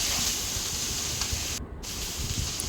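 Potatoes dropped into hot oil for a liver bhuna sizzle with a steady, close, even hiss, without a break or any talk.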